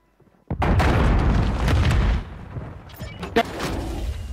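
A grenade explosion in the video game Call of Duty: Warzone bursts loudly and suddenly, then leaves a long rumbling tail that fades into lower background noise and scattered pops.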